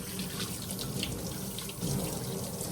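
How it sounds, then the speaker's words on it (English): Tap water runs steadily into a sink for a quick rinse, a continuous close splashing stream with no talking. "I'm going to quick rinse."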